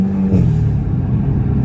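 Engine of an Audi S3 8V with a GFB DVX blow off valve, heard from inside the cabin as a loud, deep droning rumble under acceleration, its pitch shifting steadily with no voices.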